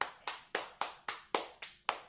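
Single person clapping slowly and evenly, about eight crisp, close claps spaced roughly a quarter second apart, with nothing else heard.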